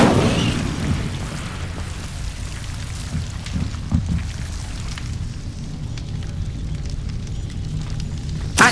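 An Incendio fire spell in Hogwarts Legacy bursts with a sharp blast at the start, followed by a crackling, rain-like rush of flame and scattered small pops that fade to a quieter hiss.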